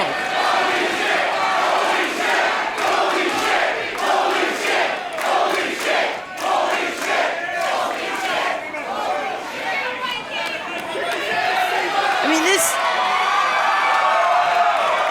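Wrestling crowd at a live show, cheering and shouting as they are riled up by a wrestler: a dense, loud roar of many voices with whoops and chants rising and falling, with a commentator talking over it.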